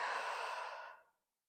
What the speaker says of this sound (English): Long breath out.